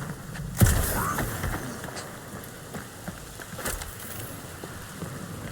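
Rain falls in a wet game world in Marvel's Guardians of the Galaxy, a steady patter on surfaces with a sharper impact near the start and another midway, heard without speech.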